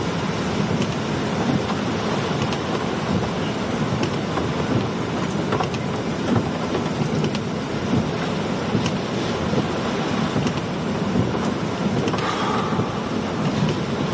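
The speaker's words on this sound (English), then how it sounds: "That was a pretty strong gust that just came through." Strong hurricane wind gusting steadily through trees during Hurricane Debby, a loud continuous roar with heavy buffeting noise on the microphone and no voices.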